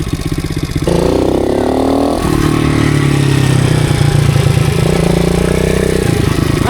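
Motorcycle engine on a beginner riding course, running steadily close by for several seconds, with the pitch rising as it is revved and then settling into a lower, even drone, with no talk over it.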